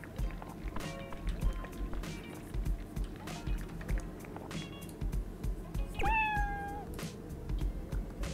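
A cat in the game Dave the Diver gives one clear, rising meow after being fed, heard over soft clicks and game ambience.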